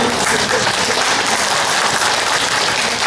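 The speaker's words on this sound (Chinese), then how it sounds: "尤其掌声太可爱" An audience at a Taiwanese women's association annual gathering applauds, dense continuous clapping filling the whole moment at steady loudness.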